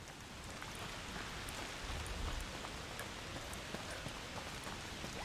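Steady rain pattering on surfaces in A Plague Tale: Requiem, a dense continuous hiss with scattered individual drop ticks, fairly quiet and with no one talking.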